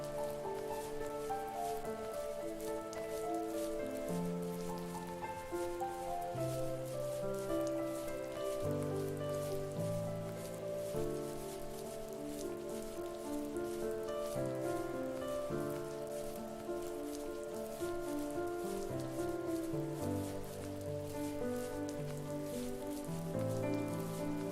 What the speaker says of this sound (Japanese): 雨。